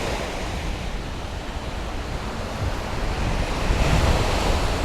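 Wind buffets a muffed microphone at Jomtien Beach in Pattaya, Thailand, a loud low rumbling roar blended with the wash of waves, swelling slightly toward the end with no speech.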